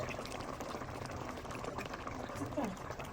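Water is poured into a pot of simmering beef caldereta with ketchup, a steady splashing pour over bubbling liquid, close by with someone talking over it.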